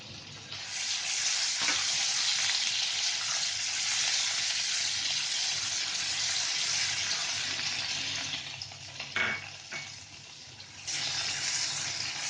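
Garlic paste sizzles and fries in hot oil in a pan, a steady, loud hiss that fills the whole stretch, with brief stirring scrapes near the end and no talk.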